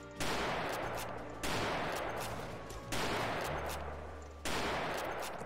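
Gunfire in the video game Mount and Blade 1866: four loud, sharp shots spaced roughly every one and a half seconds, each with a long decaying tail, heard alone.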